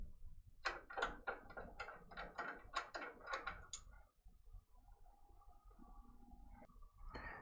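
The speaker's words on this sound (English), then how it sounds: "I'm just going to loosen these thumb screws" Thumb screws on embroidery hoop arms are loosened and unscrewed, giving a quick series of sharp, close ticks and clicks followed by quieter scraping and a final click.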